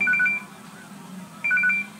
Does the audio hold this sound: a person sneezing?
no